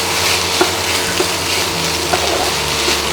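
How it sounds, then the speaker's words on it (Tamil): Tamarind extract goes into a hot pan of karamani sundal with capsicum, and the liquid hisses and sizzles loudly and steadily while occasional light stirring clicks sound up close. "அடுத்து புளிக்கரைசலை சேர்த்துக்கலாம்."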